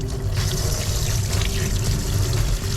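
Water pours and trickles steadily as a hydration bladder's cap and bite valve are rinsed under running water, a loud continuous splashing stream with no talk.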